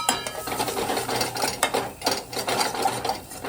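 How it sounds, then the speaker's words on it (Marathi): Crab's yellow part sautéing with masala in hot oil, a spoon stirring and scraping the pan in irregular strokes, with soft sizzling underneath and no talking. "मसाला मस्त तेलात आपण परतून घेतलाय"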